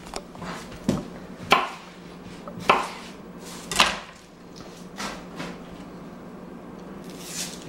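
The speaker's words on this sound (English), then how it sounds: "I'm just going to cut off the top and bottom ends" A knife slices the top and bottom ends off sweet onions on a cutting board, giving about six distinct, close chops at uneven intervals, each with a brief crunch.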